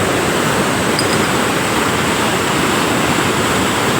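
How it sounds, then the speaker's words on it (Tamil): Water from Veeranam lake rushes out through an open sluice gate into the river. It makes a steady, dense roar that stays loud and constant, with no voices. "அதனால் வந்து தண்ணி வந்து ரொம்ப வேகமாக திறந்து போயிட்டு இருக்குது"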